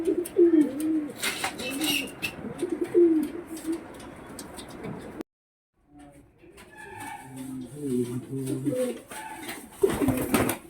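Pigeons at a pigeon sale coo in repeated soft, low rolling calls, fairly close, with brief gaps and scattered background chatter and movement.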